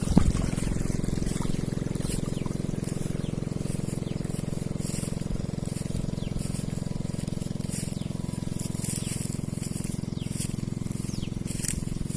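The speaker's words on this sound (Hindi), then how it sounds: "ये पानी देखो, पानी जा रहा है दूसरी खेत में" Water running steadily from one farm field into the next, a continuous low trickling flow held at an even level for the whole stretch, with no voices over it.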